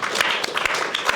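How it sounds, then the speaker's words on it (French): Brief burst of studio-audience applause on a French talk show, scattered claps under a moment of room noise, close and moderately loud. "Allez, on l'applaudit."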